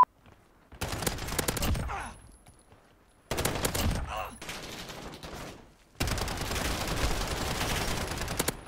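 Rapid SMG fire from the Striker 45 in Call of Duty Modern Warfare multiplayer comes in three sustained bursts split by short silent gaps, loud and close.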